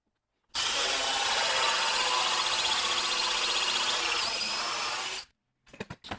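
A power drill bores through two clamped wooden boat-building stations in one continuous, loud, whirring run of about five seconds, then stops abruptly, followed by a few short knocks and handling sounds.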